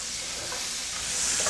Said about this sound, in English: And then I'll throw our green beans in.